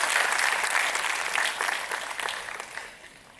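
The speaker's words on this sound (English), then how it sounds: "Let's welcome Mr. Gurnani with a thunderous round of applause" An audience at an inaugural conference session applauds to welcome a guest, a thick burst of many hands clapping that stays strong at first and then fades away.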